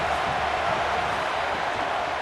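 A stadium crowd in the College Football 27 video game roars in a loud, continuous wash of noise with no breaks, close and dense throughout.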